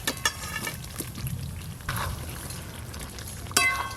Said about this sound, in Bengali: কাশ্মীরি আলুর দমের জন্য মশলা আর আলু একসঙ্গে খুব ভালো করে কষে নিলাম